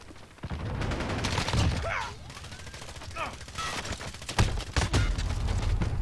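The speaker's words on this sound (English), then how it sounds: "Why the shot sounds like it was coming from my right?" Rapid gunfire from an M4 rifle in Call of Duty: Modern Warfare rattles in bursts, sharp close cracks with pauses between volleys and a few brief mechanical sounds.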